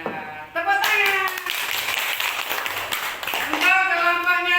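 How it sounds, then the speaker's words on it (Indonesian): A group gives a round of applause during a school coaching session, a continuous burst of many hands clapping, with voices and musical tones sounding over it. "Tepuk tangan."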